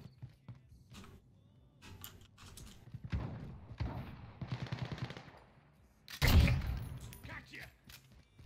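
Bursts of automatic AK rifle fire with a laser sight in a night gun-game match, loud and close in rapid volleys with a heavy blast late on, mixed with mechanical clatter and a voice over parts of it.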